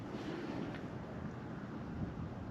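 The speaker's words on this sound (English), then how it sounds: "it is quite windy out here" Steady wind rushes and buffets against the microphone outdoors above weeds while ice fishing, a constant broadband roar with no voices.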